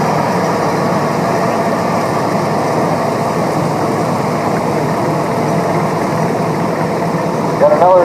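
A vintage ZA tractor engine runs steadily during a farm show parade, a continuous mid-loud idling chug with outdoor background noise throughout and no break in the drone.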